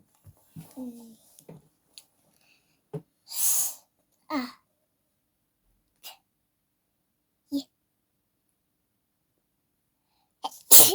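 A single sharp sneeze bursts out amid quiet, scattered vocal sounds and short noises, followed later by another loud burst at the end.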